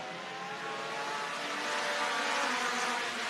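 Midwest Dash Series race cars at Rockford Speedway accelerating at the start of a race: a continuous, fairly close engine roar that swells slightly as the field pulls away, no voices.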